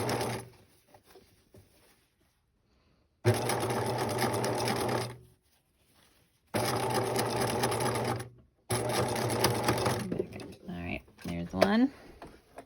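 A sewing machine stitches fabric for a face mask, running in three steady, loud bursts with brief silences between them and a few softer handling noises at the end.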